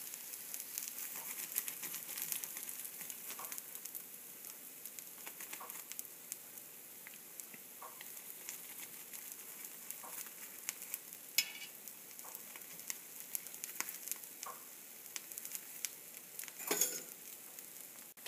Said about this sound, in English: Cook on this side. And ensure that the paratha has been cooked on both the sides.